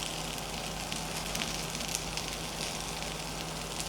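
Sweet corn gunta ponganalu sizzle in oil in a covered paniyaram pan on low heat, a soft, steady crackling fry with no break and no voices.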